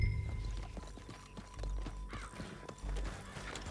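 Horse hooves clip-clopping at a gallop in Red Dead Redemption 2, a steady run of close, fairly loud hoofbeats with a brief whinny and low rumbling beneath, no talk.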